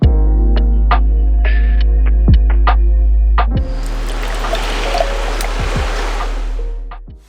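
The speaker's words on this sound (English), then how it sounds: "First creek crossing." A truck on an overlanding camping trip drives into a creek crossing: a steady low engine rumble with a few knocks, then a loud, sustained rush of splashing water as it ploughs through.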